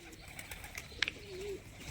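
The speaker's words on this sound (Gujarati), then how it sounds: "કબૂતરાને ખવડાવે છે દાણા નાખે છે" Pet pigeons coo softly while being fed grain, giving a single low, drawn-out coo with a few faint chirps and clicks nearby, quiet and close.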